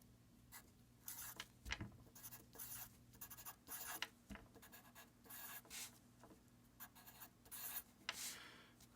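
Pencil or pen scratching across paper while a treble clef is drawn, a run of short strokes and curls close up, quiet and steady with brief pauses and no talk.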